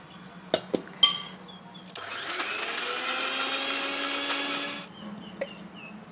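An electric kitchen mixer grinds soaked moong dal with a loud, steady whirring drone lasting about three seconds, preceded and followed by brief clicks and clatter of the jar and lid.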